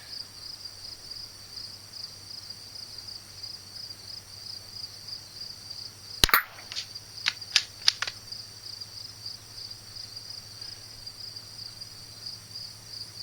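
.22 LR rifle fired with Eley Club ammunition at an outdoor range: one sharp crack, then a few quieter smacks or echoes, heard against a steady insect and cricket background with no talking.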